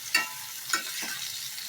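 Small new potatoes, some halved, fry in a pan with a steady close sizzle, and two sharp stirring scrapes stand out early on, with no speech.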